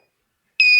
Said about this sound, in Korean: 그 변하는 자기장을 감지해서 자기장이 많이 변화하면 소리를 울리자라고 하는 거예요